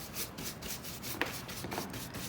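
Soft, steady rubbing of sandpaper on flexible WoodUbend decorative moulding, continuous scratchy strokes close up and fairly quiet.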